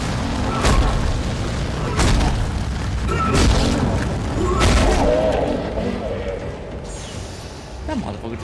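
Explosions in the 2008 game Dead Space, played on Xbox, land as a series of heavy booms roughly every second or so, rolling under constant loud in-game noise while people talk over them.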